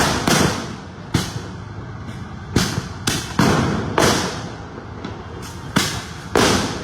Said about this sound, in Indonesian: lebih kepada melemparkan molotov dan petasan dan juga batu